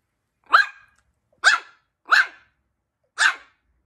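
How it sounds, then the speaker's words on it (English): A Biewer Yorkshire Terrier puppy barks at her reflection in a mirror four times in a loose, uneven rhythm, each bark short and sharp, close up with silence between them. "she's barking at her reflection in the mirror"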